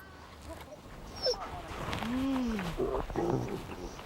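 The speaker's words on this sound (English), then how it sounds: "Hear him growl? He's growling because he's competing for his milk." A young animal competing for bottle milk gives a low, drawn-out growl mid-clip, with faint rustling and a person speaking nearby.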